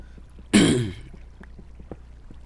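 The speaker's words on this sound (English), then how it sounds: "Sorry, I have to keep clearing my throat." A single throat clearing, sharp and close, a brief rasping burst followed by quiet background with faint clicks.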